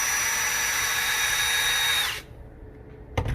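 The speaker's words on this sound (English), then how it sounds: "using the drill, all you do is put it onto the shank on the spool" Cordless drill spinning a spool to reel in thin prawn trap line on a boat, a loud steady high-pitched whir for about two seconds that cuts off abruptly, followed by a quiet pause and a brief clatter.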